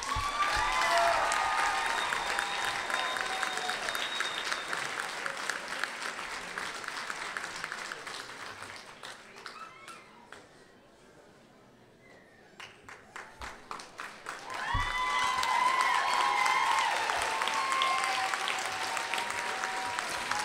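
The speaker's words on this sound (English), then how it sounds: "please give a round of applause for the future Dr. Cervantes" A commencement audience claps for a graduating doctoral student, dense applause that fades to near silence mid-way before a fresh loud burst of clapping swells back up, with faint speech briefly audible.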